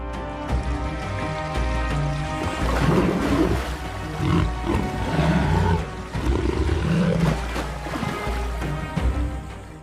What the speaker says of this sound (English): Roars blend with the sound of rushing water rolling across the reserve like distant thunder